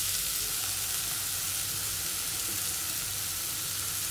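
Small curry leaves sauté in a pan for shrimp curry, producing a continuous, even, close-up sizzle and hiss with no breaks and no talking.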